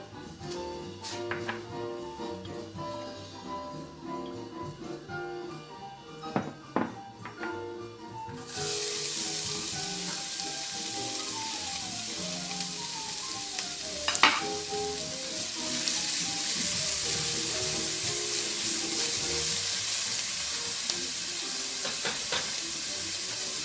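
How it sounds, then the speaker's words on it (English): Diced onions go into a fry pan with a little olive oil over medium heat; after a quieter stretch of clinks, a loud steady sizzle sets in and continues with occasional utensil scrapes. "we're going to take them over to a fry pan on medium heat with a little bit of olive oil"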